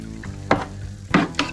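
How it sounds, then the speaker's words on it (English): A spoon stirs apple juice in a container to aerate it before yeast goes in for cider, giving a few quiet sloshing swirls and scrapes, with two short louder strokes and no talking. "And then give it a stir"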